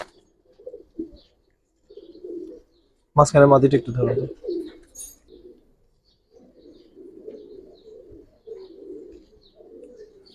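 Giribaz pigeons coo in soft, low repeated murmurs, close by, while someone speaks over them and a brief louder voice burst cuts in midway.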